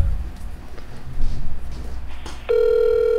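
A phone call is placed: low handling rumble comes first, then a steady electronic ringing tone starts suddenly and holds loudly until the end.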